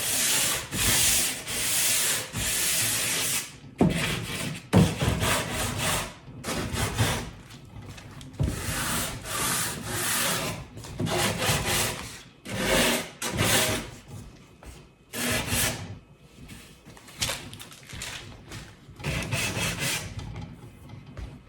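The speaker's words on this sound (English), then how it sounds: "So I'm just lightly, and this is 220 grit." Hand sanding a wooden medicine cabinet with 220 grit sandpaper, lightly scuffing the painted surface: repeated close, loud rasping strokes in uneven bursts, with no talking over it.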